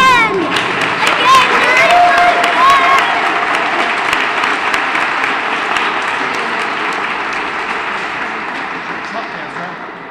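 Loud, dense applause from a large crowd at the State Capitol, steady clapping with some cheering and voices mixed in, slowly easing off toward the end.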